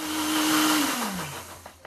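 Blender grinding corn kernels, a loud steady whirring roar with a hissing rattle; the motor pitch sags gradually as the load drags, then briefly settles near the end. Close and continuous, with no talking.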